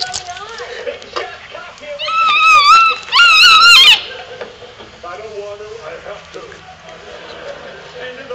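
A young dog lets out a few high, whining yelps and squeals in two short bursts, with quieter whimpers and background sounds around them.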